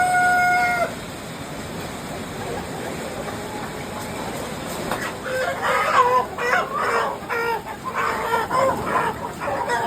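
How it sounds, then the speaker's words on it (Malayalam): Roosters and heavy broiler chickens on a poultry farm cluck and call repeatedly, a dense flock chorus near and loud over steady background noise, with a high crow-like note early on. "ഇതെല്ലാം പൂവൻകോഴികളാണ്."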